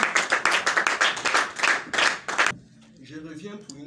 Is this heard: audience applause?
yes